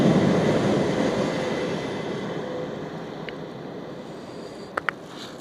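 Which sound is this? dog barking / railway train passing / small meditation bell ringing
railway train passing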